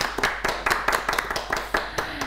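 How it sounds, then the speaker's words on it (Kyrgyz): An audience at a live comedy and music show claps in a quick, uneven burst of hand claps, close and fairly loud, fading over a couple of seconds. "Кол чабуулар"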